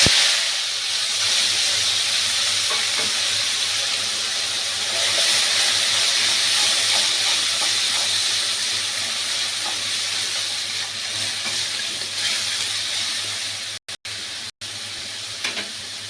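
Onion paste frying in hot oil in a pan, made from two large onions for a South Indian chicken curry, gives a steady, loud sizzling hiss that carries on evenly throughout with no talking.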